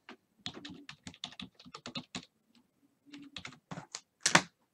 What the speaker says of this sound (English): I'm typing over top of them.